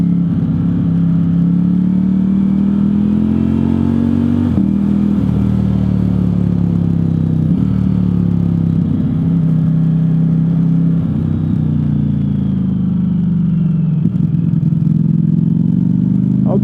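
A Ducati Streetfighter V4S motorcycle is ridden, its engine a loud, constant droning rumble that rises and falls gently with speed, with a few shifts and wind noise throughout.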